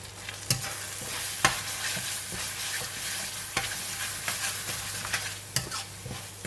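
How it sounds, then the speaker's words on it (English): Grated toasted coconut (kerisik) is stirred into chicken rendang frying in a pan, with a steady sizzle under repeated sharp scraping strokes of a utensil at irregular intervals, close and without voices. "Now I'm putting in the kerisik, the grated coconut, salt, sugar"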